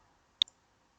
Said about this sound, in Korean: 마우스 오른쪽 버튼을 눌러서요.